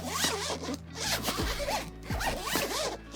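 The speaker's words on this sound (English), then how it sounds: "let's try the zips." Zippers on a Nacon/BigBen Nintendo Switch travel case are pulled open in several smooth, close zipping strokes, one after another with no talk.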